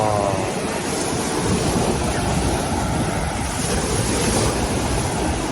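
Steady broadband wash of ocean surf at a beach in Chonburi, Thailand, with continuous wind noise buffeting the microphone and low rumble throughout, loud and close, no distinct breaks between waves.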